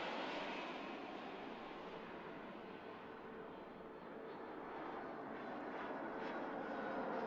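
Aircraft taking off in the Mini Airways air traffic game, a steady, broad jet-engine roar that holds level for the whole stretch and swells slightly toward the end, with no talk.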